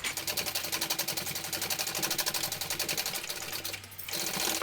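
A sewing machine runs steadily in a fast rapid-fire clatter, basting fabric at a one-eighth-inch seam for a small pattern, close and alone, with a brief change in pitch near the end.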